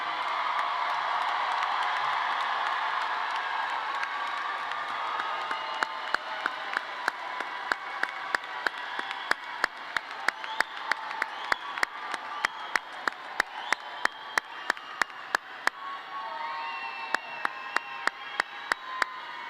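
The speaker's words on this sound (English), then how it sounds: "let's give a big shout and cheer for the people who got you here" A graduation crowd for a Harlem class cheers and applauds, with dense steady clapping, whoops and shouts throughout, loud and sustained, growing sharper with distinct claps toward the end.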